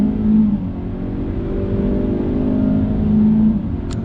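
A 2021 Hyundai Elantra with a 2-liter inline-4 and CVT accelerating in sport mode, its engine humming steadily from inside the cabin as the revs rise and fall with simulated shifts.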